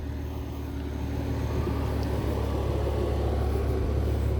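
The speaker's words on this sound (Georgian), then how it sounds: "ახე როგორი წითელი M6 მოვიდა" A red BMW M6 pulls into a workshop, its engine producing a steady, fairly loud low rumble that holds throughout with no voices.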